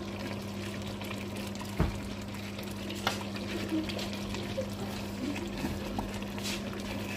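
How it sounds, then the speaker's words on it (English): Tilapia fish stew being stirred gently in a pot, with soft scraping and liquid movement under a low steady hum and a few faint knocks, no talking. "I'm afraid to stir too hard so that the pieces don't get broken."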